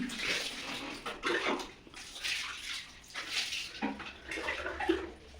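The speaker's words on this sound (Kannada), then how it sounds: "ನೀರು ಹಾಕೋದನ್ನು ಮೇಲಿಂದ ನೋಡಿ" Water splashes and pours over a street puppy during its bath, an uneven wash of close, fairly soft splashing that continues throughout.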